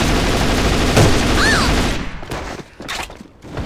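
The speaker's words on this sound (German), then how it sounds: "Jetzt habe ich hier eine Granate reingeworfen." Grenade explosion in the online shooter AVA, a loud dense burst of blasting noise that dies away after about two seconds into scattered sharp cracks and quieter gunfire.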